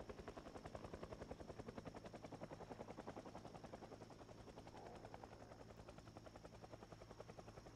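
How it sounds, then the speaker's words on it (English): A helicopter in the video game Project Zomboid beats steadily overhead, its rotor chop pulsing evenly and fairly faintly for several seconds without any talk. "the helicopter is doing us a favor"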